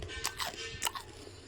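Crunchy bites into freshly fried, crisp-shelled tapioca bondas, a few sharp crackling bites and chews close up in a quiet setting.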